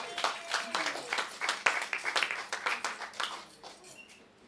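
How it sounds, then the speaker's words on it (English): Audience applause at a poetry slam, a lively burst of many people clapping with some whoops, loud at first and tapering off toward the end. "give a round of applause for yourselves for coming out to this beautiful event"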